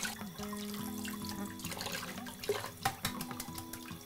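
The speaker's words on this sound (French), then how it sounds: "Je vais mettre un petit peu d'eau" Water poured from a tap or into a pan while cooking Chinese-style fried chicken, a steady close splashing stream with kitchen clatter and light knocks over it, no talk.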